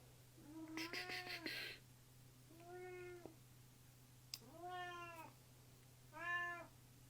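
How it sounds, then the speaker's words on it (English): A house cat meows four times in a row, each call drawn out and fairly close, with a steady low hum underneath and no talking. "My cat's here."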